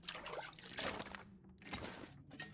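Water being collected in The Long Dark, a broadband pouring, trickling wash that comes in two bursts separated by a brief near-silent gap, fairly quiet and with no talk.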